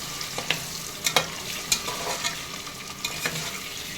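Eggs fry in oil until browned, a continuous close sizzle broken by scattered clinks and scrapes of a utensil stirring in the pan.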